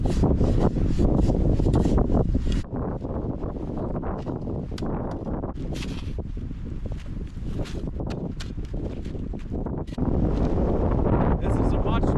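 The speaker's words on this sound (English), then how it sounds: "give a little bit of protection from this crazy wind" Strong winter wind in the mountains, roaring gusts buffeting close to the microphone with rustling and footsteps, a voice speaking at times beneath.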